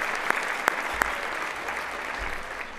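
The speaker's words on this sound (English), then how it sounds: "You can clap for that." Scattered audience applause at a youth-of-the-year banquet, dense but fairly soft clapping with a few sharp nearby claps standing out, continuing for about three seconds.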